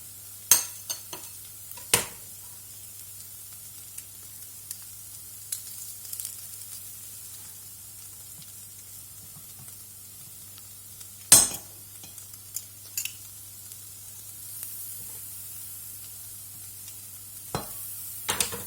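Garlic sizzles steadily in a hot frying pan with a constant hiss, punctuated by occasional sharp clicks and scrapes of a utensil stirring against the pan, close and with no talking.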